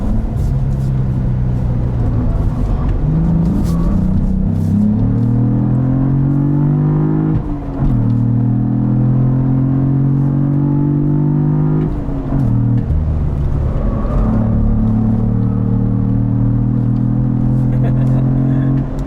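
A 2022 Cadillac CT4-V Blackwing driven hard through a high-speed slide, its engine revving loud and close, the note climbing through each gear and dropping sharply at every shift, then rising again.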